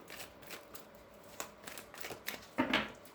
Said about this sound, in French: Mélange bien le jeu.